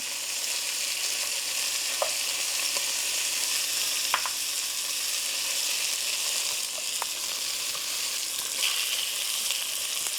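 Braised short ribs sear in a pot with a constant loud sizzle and crackle, marked by occasional sharp pops, close by and without speech.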